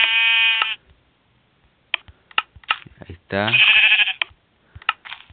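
Sheep in the Minecraft video game bleat in two clear, loud, wavering calls, one at the start and a longer one midway, with someone talking in Spanish between and after them.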